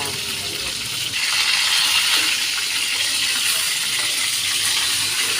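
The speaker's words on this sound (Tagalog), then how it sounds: "ilalagay na natin ang ating unang tigang gata" Coconut milk goes into a pot of simmering chicken curry, giving a steady broadband bubbling and sizzling hiss that grows slightly louder after a brief dip, continuous and close, with no talk.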